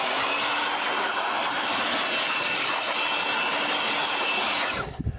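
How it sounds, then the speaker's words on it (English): Loud, steady rush of air from a DeWalt cordless blower clearing dust off the engine cover of a 2013-2022 Chevy Malibu 2.0L turbo, continuous for about five seconds before cutting off abruptly. "I'm gonna use my DeWalt blower right now because it's quicker and easier."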